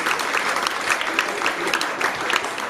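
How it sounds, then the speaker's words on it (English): A magic show audience at the Chicago Magic Lounge claps steadily and fairly loudly for nearly three seconds, with dense, continuous applause and a few brighter individual claps standing out. "Big round of applause for us up"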